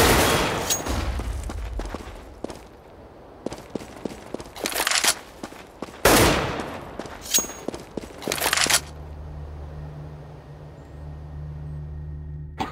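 Bursts of AK rifle fire in a Counter-Strike match on the Train map, loud clustered volleys separated by footsteps and short pauses, ending in a low steady hum.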